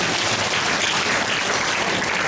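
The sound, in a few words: congregation applause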